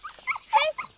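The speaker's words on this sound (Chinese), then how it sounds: "小狗儿， 公子，公子， 绿儿" A small dog lets out three short whimpering yips, close and clear, in a quiet indoor scene with no one speaking.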